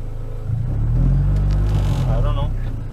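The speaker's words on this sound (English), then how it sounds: "Why does your car sound like it's gonna break down?" Car engine fitted with a newly installed aftermarket exhaust, a loud steady low rumble idling close by throughout, with a voice talking briefly over it.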